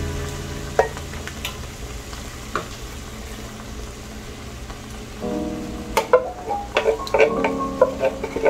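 Crushed peppers or tomato sauce going into a hot cooking pan for ratatouille, a steady soft sizzle with scattered clinks and stirring scrapes that grow busier toward the end.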